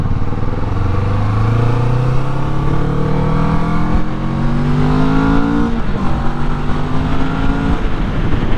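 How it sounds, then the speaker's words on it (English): A Kawasaki Vulcan S cruiser motorcycle accelerates hard from first gear, its engine note climbing steadily through several rising pulls with a gear change, loud and close with wind rush. "From first gear, the acceleration is very responsive."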